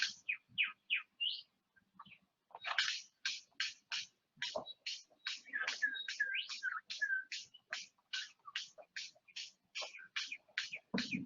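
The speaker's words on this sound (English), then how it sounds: "The six-plumed bird of paradise displays in his special clearing on the forest floor." A male six-plumed bird of paradise calls from his display clearing on the forest floor, giving a long series of sharp, evenly spaced rasping notes, loud and close, with softer twittering in between and no talk.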